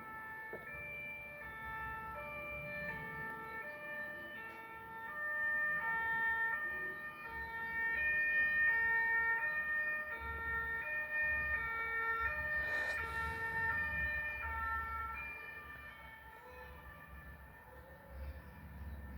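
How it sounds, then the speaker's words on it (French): An ambulance siren wails steadily, swelling louder as it passes along a road and then fading slightly, with low traffic rumble underneath. "J'ai souvent l'ambulance qui passe ici."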